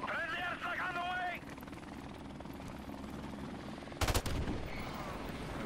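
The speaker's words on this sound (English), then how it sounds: "Friendly airstrike on the way!" A Call of Duty Modern Warfare Remastered match with a voice calling out an incoming friendly airstrike, low aircraft rumble under the action and a sudden loud crackling burst of explosions and gunfire.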